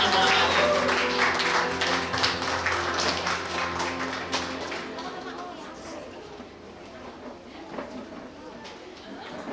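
A church congregation at a Sunday service gives loud applause that starts strong and fades gradually, with talking and a voice heard over the clapping.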